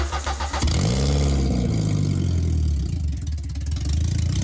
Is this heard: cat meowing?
no